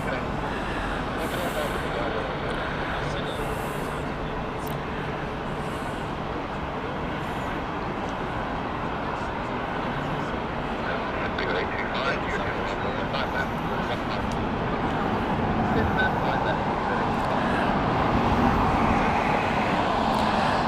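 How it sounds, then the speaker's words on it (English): A British Airways Airbus A320 on the Dublin flight at Heathrow Airport, its engine noise forming a continuous broad rumble that grows a little louder toward the end, mixed with distant airport sounds and voices. "it is the British Airways Dublin flight Airbus A320"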